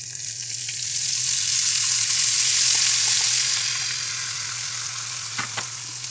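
Corn frying in a hot pan, with a loud, steady hiss and sizzle that swells and then eases slightly, close by, with a few faint stirring clicks near the end.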